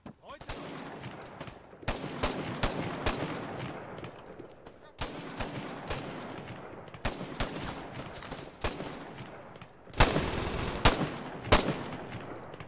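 Repeated bursts of rifle and automatic gunfire in the military shooter Arma 3, loud sharp cracks in uneven volleys with brief pauses, over a constant hum of battlefield background.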